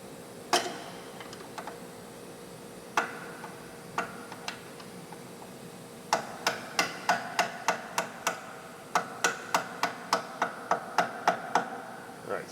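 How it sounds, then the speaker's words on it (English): Sharp metallic taps from a small hammer driving a flathead screwdriver to seat a brake line bracket on an FL5 Civic Type R, a few isolated strikes, then quick rhythmic bursts of close tapping. "So flathead and a small hammer."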